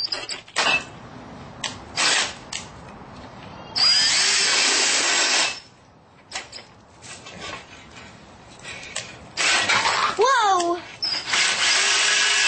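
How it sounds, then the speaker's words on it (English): A hand drill lubricated with cutting oil bores holes in steel angle iron during a bus conversion, stepping up to a 5/8 inch hole; whining drill bursts start and stop, mixed with voices and other workshop noise. "Grandpa's drilling holes in the angle iron with cutting oil and a drill."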